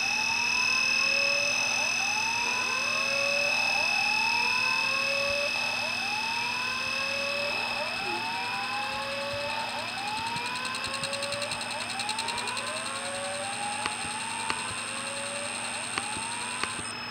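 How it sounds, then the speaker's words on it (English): A fire alarm sounds in the Roblox video game with a loud, repeating rising electronic wail over steady high tones. It cycles continuously with no talking. "We just activated the fire alarm."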